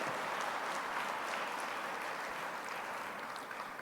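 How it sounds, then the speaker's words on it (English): Audience applause fills a hall at the State of Agriculture address, a steady, dense wash of clapping that holds evenly for several seconds and fades slightly at the end. "That's worth a round of applause"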